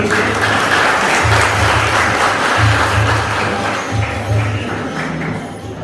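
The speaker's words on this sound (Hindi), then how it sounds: "अब अपने लिए ताली बजा देंगे।" An audience at a Brahma Kumaris gathering claps loudly and steadily together, dense close applause lasting several seconds before easing slightly at the end.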